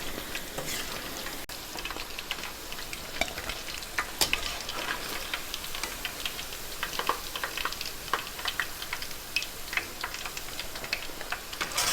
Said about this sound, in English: finish frying up all your chicken